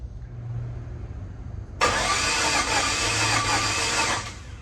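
A team van's engine is cranked over and catches roughly, a low idle rumble suddenly giving way to a loud, harsh, hissing roar that runs unevenly for a couple of seconds, close by and with no voices.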